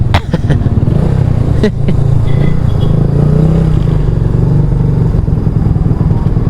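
A Kawasaki W175 motorcycle engine idles loud and close with a steady low throb throughout, while a few sharp clicks and clatters sound near the start.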